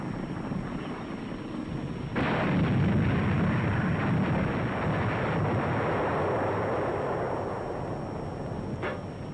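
WWII tank gunfire and artillery fire, a loud booming blast that rolls into a sustained low rumble and slowly fades, then a second sharp report near the end.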